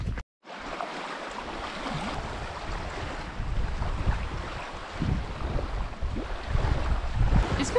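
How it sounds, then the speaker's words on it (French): Blustery wind buffets the microphone on an Austrian shore while ocean waves surge and crash, a continuous loud rushing with swelling gusts after a brief silent gap at the start. "entre le vent et le bruit des vagues"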